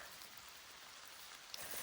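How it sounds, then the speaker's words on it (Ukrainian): Rain falling in a forest in the Kyiv region, a faint, steady patter of drops on leaves with no voices. "Ой, який дощик. Прожене нас іще. Розходиться все сильніше."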